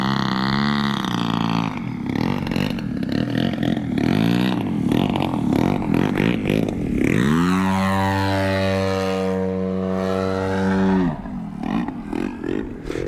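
Engine of a Hangar 9 Carbon Cub FX-3 RC plane fitted with stock mufflers, buzzing and wavering in pitch before holding a loud steady high-revving drone, then easing off.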